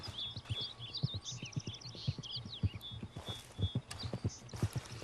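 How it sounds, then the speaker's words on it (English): A horse in Red Dead Redemption 2 trots in with steady, rhythmic hoof clip-clops that grow closer and louder, with birds chirping faintly in the background. "I'll call my horse back."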